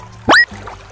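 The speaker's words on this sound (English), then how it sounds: "Let's put the hammerhead shark back in the water." A plastic toy hammerhead shark drops into water with a single quick, bright splash and rising pour-like gurgle, loud and close, then fades into quiet room tone.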